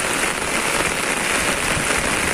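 Heavy rain pours down in Hyderabad, a dense, unbroken hiss of drops hammering surfaces at a steady loud level with no voices.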